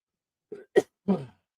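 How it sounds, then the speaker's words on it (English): A man on a knife-collecting livestream coughs or clears his throat in three short, close bursts, spaced over about a second, with silence around them. "Coughing, sneezing, sniffling."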